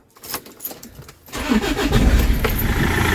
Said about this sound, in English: So just going to run the engine up for a minute or two